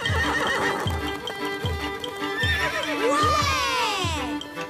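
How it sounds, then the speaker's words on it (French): Cartoon wild horses neigh and whinny in long, shrill calls over a steady rhythm of clip-clopping hooves, with a music bed underneath and no speech. "Ouais! Nos chevaux!"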